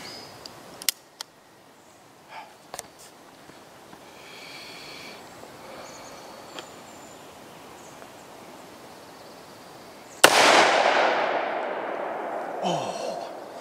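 A single loud, sharp blast from a Bond Arms Rowdy derringer firing a .410 shell, close by, with a decaying echo after quiet handling noises and faint clicks.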